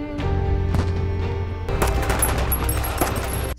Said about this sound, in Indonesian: Baku tembak antara para sniper dan pasukan pun terjadi.